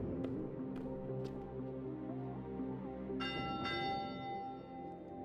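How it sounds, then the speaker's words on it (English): A tower bell rung in a monastery library video game gives a couple of bright, ringing strikes over a dense, droning game backdrop. "Now sound the bell in this tower to start the nightly checkout process"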